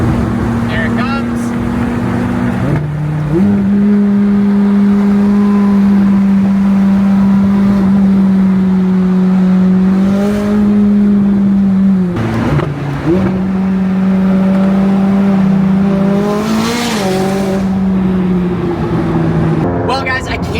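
A Koenigsegg Jesko hypercar at Monterey car week drones loudly and close, its engine pitch holding steady and then dipping and rising a few times as it rolls by, while people talk over it.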